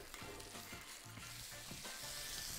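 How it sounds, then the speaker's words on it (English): Sole fillets fry in butter in a pan over medium heat, giving a steady close crackle and sizzle with a few soft low bumps throughout. "Fry on medium heat for 4 to 5 minutes each side."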